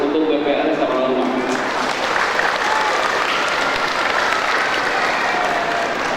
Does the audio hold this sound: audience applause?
yes